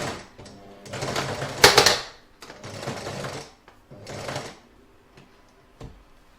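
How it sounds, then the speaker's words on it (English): An embroidery machine stitches across the first corner of an in-the-hoop crazy patch bag, running in rapid mechanical bursts of clattering needle strokes separated by short pauses, close and clear, with no talk. "I'm going to stitch across the first corner now"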